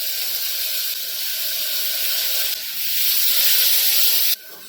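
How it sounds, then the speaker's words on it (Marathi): Chopped onion and tomato are dropped into hot ghee in a pan on a gas stove, giving a loud, steady, hissing sizzle close up that swells midway and then drops off abruptly near the end. "आता आपण ह्याच्यामध्ये ना कांदा आणि टोमॅटो हे दोन्ही टाकणार आहोत."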